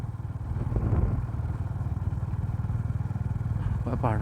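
Motorcycles ride along a hill road, their steady engine drone rising and falling near the listener while a voice talks over it throughout.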